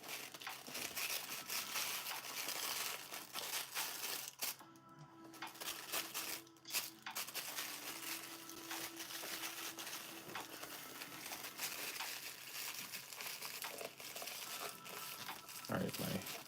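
Mystery box packages are wrapped in paper, with continuous crinkling and crumpling of paper close by, broken by brief rustles and handling noises throughout.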